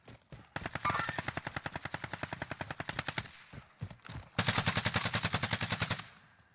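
Rapid automatic gunfire from teams fighting in the shooter game Warzone: long, steady machine-gun bursts, one moderately close stream followed by a louder, faster burst, with no talk over it.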